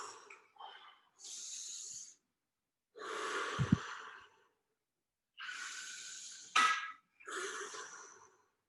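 Heavy, close breathing during a rest break in an adaptive fitness class: five or six loud, rushing inhales and exhales with short pauses between, plus one sharper snort-like breath.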